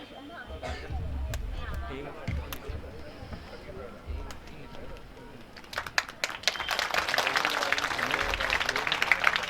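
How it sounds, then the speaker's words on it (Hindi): Audience applause greets the chairman at a Bhagwat Katha gathering in Dagana, rising into dense, sustained clapping over the second half after a stretch of crowd noise and murmuring. "माल्यार्पण करके आप सभी तालियों से स्वागत करेंगे।"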